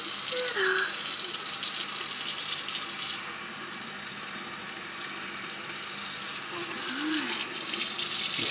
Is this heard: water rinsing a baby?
yes